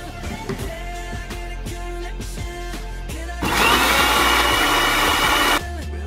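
Kitchen blender whirring through ingredients for a fish dish, a loud high motor burst kicking in midway and cutting off after about two seconds, over a steady background hum.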